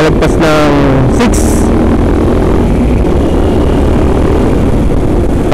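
A motorcycle engine hiccups and strains at around 50 kph, a loud, wind-buffeted ride roar with brief rising and falling engine pitch early on, then a steady heavy rumble.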